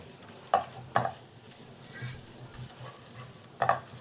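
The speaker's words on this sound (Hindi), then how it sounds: "इसको मैं ज़रा हिला लूँगी। अब मिक्स कर लूँगी अच्छी तरह से।" A spoon stirs coriander and turmeric into aloo baingan in a pan. A few sharp scrapes and knocks against the pan stand out over a soft, steady sizzle, close by, with no voice.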